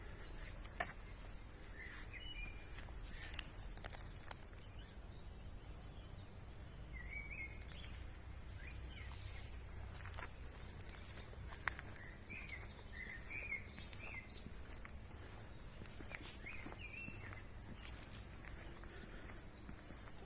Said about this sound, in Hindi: परिंदों का जो बोलना है, चहचहाना है, ये वैसे ही इंसान को ज़हनी तौर पर रिलैक्स कर देता है